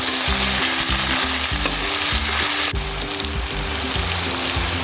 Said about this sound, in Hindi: साथ ही अदरक लहसुन का पेस्ट इसमें शामिल कर देंगे।